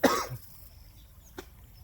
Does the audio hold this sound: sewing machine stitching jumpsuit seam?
no